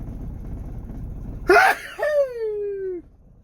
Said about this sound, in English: I'm going to sneeze any second.